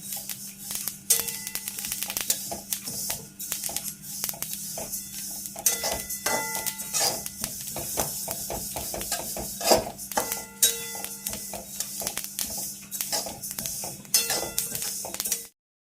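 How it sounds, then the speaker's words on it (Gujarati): Sesame seeds roast in a pan, popping and crackling in scattered quick bursts over a low steady hum, fairly faint and close. "જેમ જેમ તલ શેકાતા જશે તેમ તેમ ફૂટવા લાગશે"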